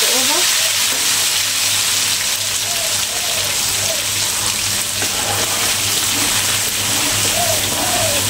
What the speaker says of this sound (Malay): tumis dia sampai dia tersenyap